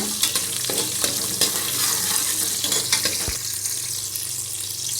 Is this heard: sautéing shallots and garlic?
yes